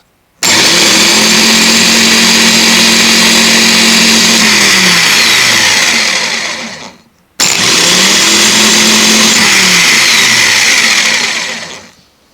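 A car starter motor spins on a bench test in two bursts of about six seconds each, a loud steady whirring whine that winds down at the end of each run, with a short pause between them.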